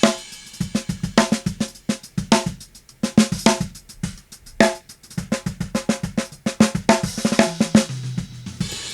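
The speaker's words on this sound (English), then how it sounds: "another cool trick that adds sustain and grit and crispiness is using drive" A programmed drum VST groove with a lightly mixed drive effect adding subtle grit and sizzle: punchy kicks, snares and busy hi-hats in a quick, steady pattern, close and dry.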